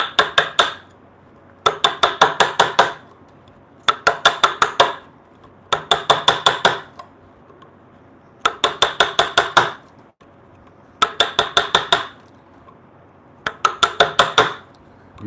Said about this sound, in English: Use a small chisel when you come to these knots so you can really pulverize the knot without getting into the grain around it